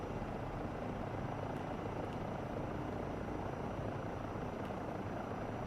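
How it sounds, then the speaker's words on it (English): A helicopter flies in Microsoft Flight Simulator 2024, its rotor and engine a steady, dense, unbroken drone at constant level, with no talking. "Forgot I was in a helicopter."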